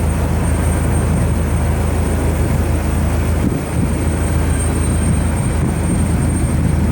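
A Frontier airliner's jet engines roar in a steady, loud, broadband rumble as it takes off from runway 24 left at Cleveland Hopkins on a snowy day, with no voices.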